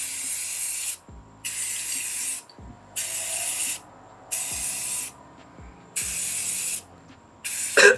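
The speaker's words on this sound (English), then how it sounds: "now I'm going to try spraying them in" Spray paint hisses from an aerosol can onto AirPods for hydro dipping, in about six sharp bursts of a second or so each separated by short pauses, close and fairly loud, with faint clicks between.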